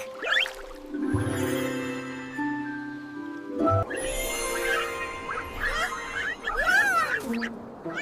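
A cartoon duck in a snowy forest quacks a few times amid sustained musical tones. The bright, wavering calls cluster near the end over a soft background, with no talking.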